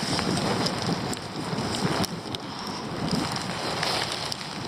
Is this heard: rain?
yes